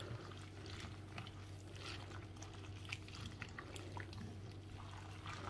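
Water drains and trickles steadily from soaked ingredients being strained for a traditional dish, a faint continuous pouring sound with no talking.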